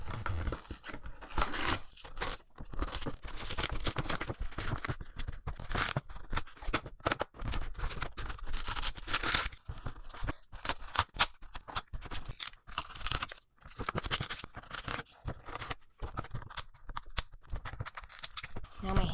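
Glued cardboard packaging ripped open by hand, with repeated tearing, scraping and crinkling bursts in an uneven rhythm, close and fairly loud throughout.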